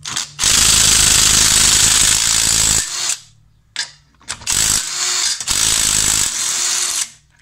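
A Parkside cordless impact wrench runs close and loud in several bursts, with a long rattling hammering run of over two seconds, short quiet gaps, then two more extended runs before stopping.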